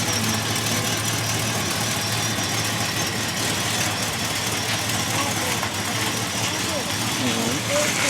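A car engine runs steadily at idle just after being restarted, with a continuous low hum and a faint knocking texture throughout, and voices talk over it.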